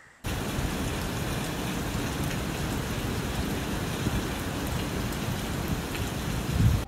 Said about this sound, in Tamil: வாவ், மே மாசத்துல மழை, வெல்கம் ரெயின்ஸ்.